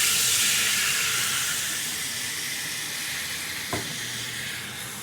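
White wine poured into a hot pan after cooking meat hisses and sizzles loudly, a strong steamy hiss that slowly fades and settles, with a small clink near the end.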